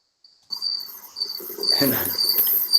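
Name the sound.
crickets chirping outside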